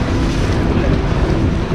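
A motorboat with a large outboard motor mounted at the rear runs along a canal in Bangkok, giving a steady, loud engine rumble mixed with wind buffeting and water wash throughout.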